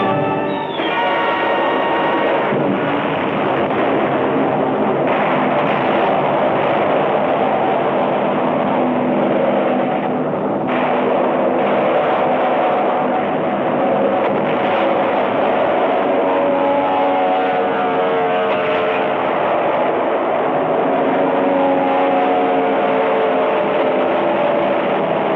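Aircraft engines roar in a 1954 war film set around Leyte Gulf, with Japanese land-based fighters and bombers overhead. The sound is a loud, dense, continuous drone that holds steady throughout, with no voices.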